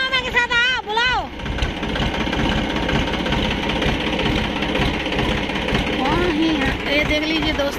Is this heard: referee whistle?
no